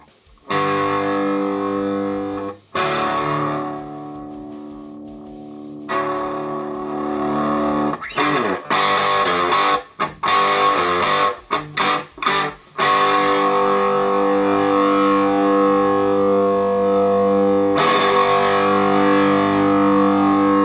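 A distorted electric guitar plays through the lead channel of a modern high-gain metal tube amp, with long sustained chords broken up by bursts of quick, choppy staccato riffing, loud and close with no voices.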